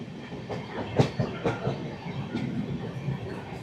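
A passenger train on the Kolkata to Keonjhar route in Odisha runs on its rails, heard from onboard as a steady rhythmic clickety-clack of wheels over rail joints above a continuous rolling rumble.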